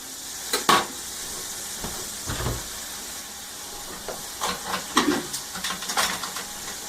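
A whisk scrapes and clicks against a pan as flour is stirred into elk green chili, with a light sizzle underneath. The strokes come in short, irregular bursts, close by, and no one speaks.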